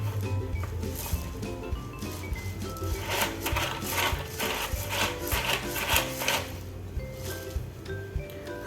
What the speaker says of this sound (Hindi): तो इसके लिए हमें इस काबुली चने को कपड़े से पोंछ लेना है।